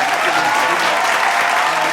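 Studio audience applause on a late-night talk show, a full, continuous round of clapping heard close and loud for the whole stretch.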